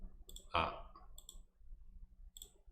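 A Tab key pressed on a computer keyboard during schematic drawing gives one sharp, close click, with faint background noise and a few soft high ticks around it.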